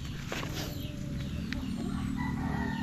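A young bullstag rooster with gold-heavy plumage, now molting, gives short close clucks against a dense farmyard background.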